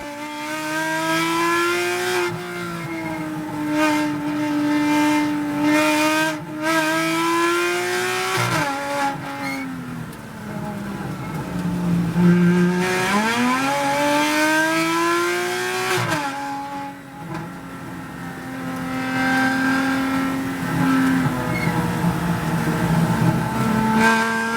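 Race cars launching at a NASA race start at Indy Motorsports Ranch, engines revving and howling up through the gears with rising and falling pitch, a loud close-up roar with tire squeal, sustained throughout.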